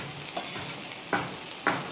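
Mutton cooks in a black wok with a low, steady sizzle, and three sharp scraping strokes of a spatula against the metal come at intervals.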